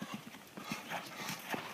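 Horse hooves clip-clop on the ground during a riding lesson, a steady, fairly faint rhythm of soft beats heard at a moderate distance.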